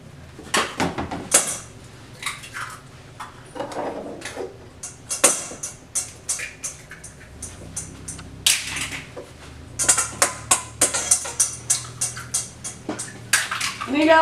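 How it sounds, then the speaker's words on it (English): Six eggs being beaten in a bowl for egg foo young with ham: a quick run of clicking utensil strikes against the bowl, rhythmic and close, with some pauses and a faint background of kitchen noise. "And you gotta lightly beat them."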